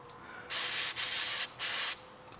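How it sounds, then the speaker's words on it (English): Three long hissing bursts from a spray can of cleaner onto an MG3's front brake slide pins, close up, separated by short gaps, over quiet background noise. "we'll give them a good spray down and clean them up"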